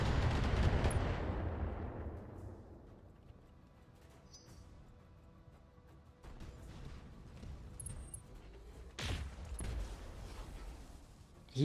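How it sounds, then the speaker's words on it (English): Mech weapon fire in BattleTech lands as a loud, close blast that rumbles and fades over about two seconds, followed by quieter mechanical noise and two more sharp bursts near the end, no talk. "He is just firing one weapon at us"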